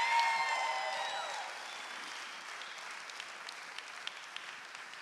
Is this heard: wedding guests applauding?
yes